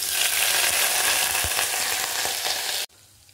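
Ginger, garlic, curry leaves and cumin dropped into hot tempering oil after mustard seeds have popped, giving a loud, steady crackling sizzle with a few sharp pops, cutting off abruptly near the end.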